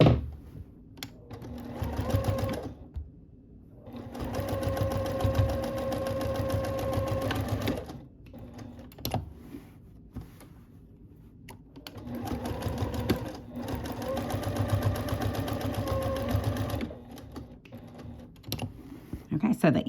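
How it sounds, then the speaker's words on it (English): A sewing machine stitches a quilted bunny ear onto a shirt in long, close, steady runs of fast needle chatter, stopping briefly between stretches before starting again. "the ear, it goes pretty fast, but there is a lot of stitching here"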